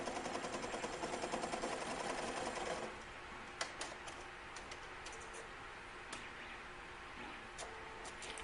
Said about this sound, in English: Machine moving to make sure nothing gets stuck underneath